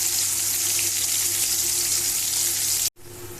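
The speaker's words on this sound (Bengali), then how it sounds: "এবার কড়া করেই ভাজবো, যেহেতু তেল ঝাল বানাবো তাই আমি আর কি কড়া করেই ভাজবো।" Bhetki fish pieces frying hard in hot oil for a spicy oil curry, a loud, steady crackling sizzle that runs without pause, briefly cutting out near the end before resuming.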